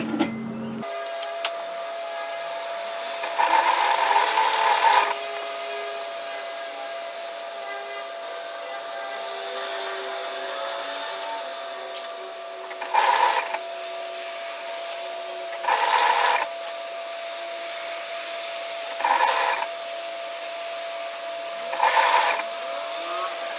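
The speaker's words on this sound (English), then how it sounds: "we're going to sew a seam at 1 centimetre, matching the notches as we go" A sewing machine stitches a 1 cm seam on a tiered dress, running in short loud whirring bursts separated by pauses, with a steady background hum between runs.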